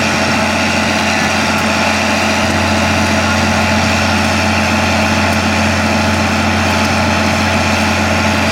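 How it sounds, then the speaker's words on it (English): A big Caterpillar engine runs at a steady idle at an antique engine show, giving a loud, continuous low rumble with a throbbing mechanical hum throughout and no talk. "He's running this big Caterpillar engine, you can hear it"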